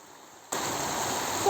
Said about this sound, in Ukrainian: З дороги воду несло на подвір'я жінки.